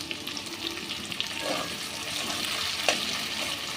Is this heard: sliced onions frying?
yes